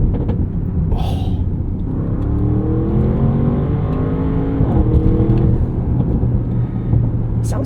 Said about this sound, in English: Everything you hear is natural, either induction or exhaust out the back.